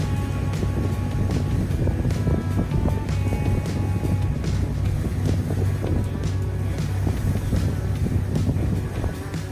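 Steady low engine rumble of a speeding boat with wind buffeting and rushing water, continuous and loud throughout.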